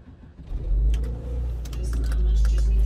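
A Saab 9-3 fitted with a short shifter drives along a road, its engine a steady low rumble that swells and holds strong, with faint clicks and rattles from the cabin and no talking.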